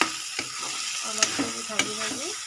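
Masoor dal frying in a pan over a low-to-medium gas flame for fish head curry, a steady close sizzle broken by several sharp scraping stirs of a spatula against the pan.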